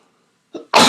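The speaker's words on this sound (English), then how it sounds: "Oh, I have to sneeze." A single sneeze breaks the quiet, with a short intake of breath followed by a loud, sharp burst that ends the clip.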